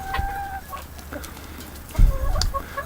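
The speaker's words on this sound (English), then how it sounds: "I'm positively sure I have 3 roosters and possibly 4" Several chickens, including roosters, cluck and squawk close by on a farm on a winter morning, with short bursts overlapping and one louder cry near the end; no talking.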